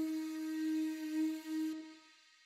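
Layered conch shell samples with chorus and slight detuning sound as one sustained, steady horn-like tone with a wide, shimmering buzz, cut off after about two seconds, leaving a short fading tail.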